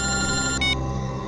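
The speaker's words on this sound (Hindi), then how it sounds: "एसीपी साहब का फोन?" A telephone rings with a steady electronic trill, close and clear, then cuts off abruptly after about a second.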